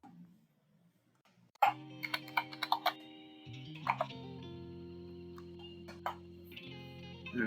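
A password typed on a computer keyboard while setting up an account, heard as quick clustered clicks and taps over a steady background tone, fairly close and moderately quiet.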